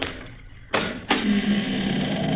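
An old door creaking open as a radio drama sound effect, with a sharp onset, a second scrape, then a sustained grinding drone, close and fairly loud.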